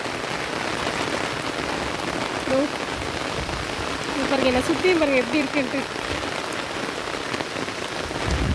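Heavy rain pouring down in Salem, a dense, continuous hiss of water striking surfaces close by, with a person speaking over it in the middle.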